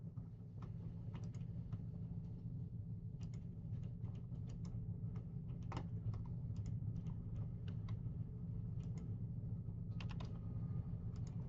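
Computer keyboard keys pressed in a scattered run of light, crisp clicks over a steady low hum.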